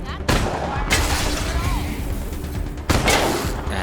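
Gunfire from a trick shot in the video game Wasteland 3 cracks out in two loud bursts at the start and again near the end, with game noise rumbling in between.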